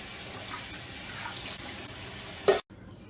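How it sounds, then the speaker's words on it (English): Tap water runs steadily while an animal's feeding bowl and serving utensils are washed with disinfectant detergent, a close, continuous splashing that builds briefly and then cuts off abruptly near the end. "we then clean the bowl and all of the serving utensils used. So we do that using a disinfectant detergent"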